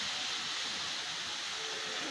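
Water poured into a pan of fried semolina and ghee for a wheat-flour and semolina pitha, a steady broadband rush and hiss that holds evenly throughout at moderate loudness with no talk.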